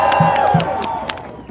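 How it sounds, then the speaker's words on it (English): Crowd at a Denver protest rally bursting into applause and cheering, dense clapping with whoops and shouts that stays loud and close throughout, voices mixed in. "Can I get a round of applause for my former co-chair,"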